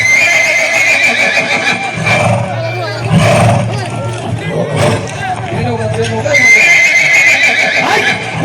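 A horse whinnies and neighs loudly and close, with repeated shrill calls amid a busy crowd of voices and general outdoor commotion.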